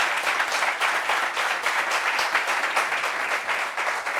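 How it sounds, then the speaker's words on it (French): A talk-show audience claps for an arriving guest, even sustained applause with a fairly constant level and no voices over it. "Applaudissements pour elle, s'il vous plaît."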